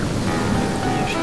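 Rushing river water in the video game Shelter, a steady broadband roar of waves and surf filling the whole moment, loud and continuous with no talking.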